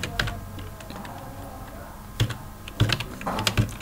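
Someone types on a computer keyboard at a command prompt, entering a disk partition command; a few scattered, close keystroke clicks come in small bursts, with quiet gaps between them and no talking.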